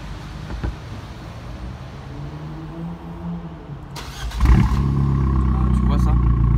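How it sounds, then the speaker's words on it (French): Abarth car engine cranks and fires at about four and a half seconds, then settles into a loud, steady idle after people talk quietly over background noise. "Tu peux nous la démarrer, mon ami?"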